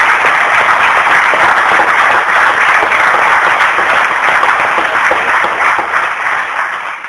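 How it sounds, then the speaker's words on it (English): Loud, dense audience applause fills the hall after a senator's speech at a convention, steady and continuous before tapering slightly at the end. "So give her a round of applause."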